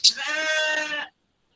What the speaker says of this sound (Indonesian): Wow, suaranya kambing itu.